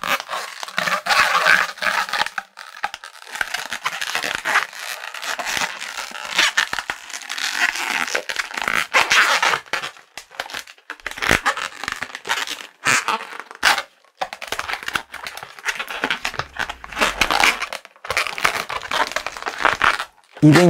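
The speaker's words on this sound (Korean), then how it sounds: "앞서 사용하고 남은 260 풍선으로 묶어줍니다." Latex 260 modeling balloons being twisted and tied into a bear wearing a scarf, with close, squeaky rubbery crinkles and rubbing that come in busy bursts separated by short pauses.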